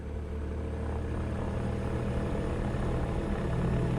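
A Shark propeller aircraft's engine drones steadily in a flight simulator, a constant low rumble that rises gently as the throttle is smoothly increased, loud and close with no voices.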